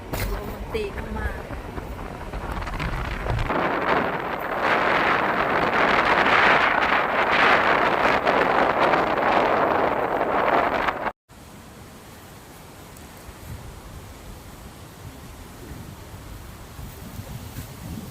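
Strong gusts of Typhoon Wipha roar across the microphone at Pha Hum Hod, a loud sustained wind rush that swells for about ten seconds, then drops abruptly to a quieter steady blowing, with people talking under it.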